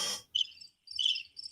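Crickets play as a sound effect: a few short, bright chirps, close and clear, with brief pauses between them.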